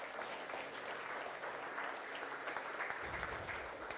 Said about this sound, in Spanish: Vamos a dar una ofrenda de palmas al Señor.